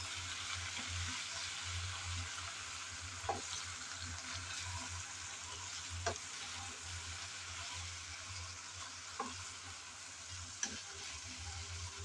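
Fresh jute leaves are stirred and fried in a pan, giving a steady close sizzle broken by a few sharp scrapes and taps of the spoon, with no talking.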